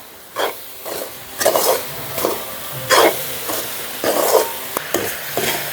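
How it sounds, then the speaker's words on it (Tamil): Grated coconut and sugar being stirred in a pan for coconut milk toffee: repeated scraping, sizzling strokes come in bursts about every second, close and moderately loud, with no talking. "இதை வடிவாக நாங்கள் இந்த சீனியோட வடிவாக கிண்டி கொள்ளுவோம்"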